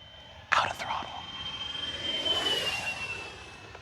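An E-flite Habu XS 80mm electric ducted-fan jet makes a high-speed pass, a steady rising whine swelling as it closes in and fading slightly, after a sharp near thump and brief whispered speech at the start.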